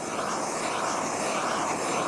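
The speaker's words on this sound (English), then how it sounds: "you want to keep the torch moving so you spread the heat around into the engine case" A torch flame roars steadily while heating the engine case of a Vespa P200e scooter, a close, continuous broadband hiss that stays even throughout with no talk.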